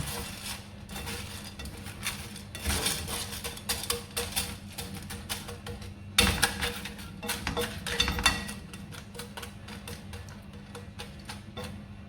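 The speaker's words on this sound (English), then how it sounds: "Just place the popcorn maize in the bottom of the frying pan and then mix with the oil" Popcorn maize kernels are stirred with oil in a frying pan, giving a close, continuous scratchy rattle of kernels shifting against the metal, with no talking.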